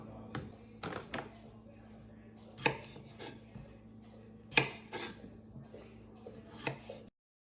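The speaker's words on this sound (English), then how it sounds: "We'll start chopping things up." A knife chops Roma tomatoes and onions on a cutting board for pico de gallo, sharp scattered thuds and taps close by with quiet gaps and a faint steady hum underneath.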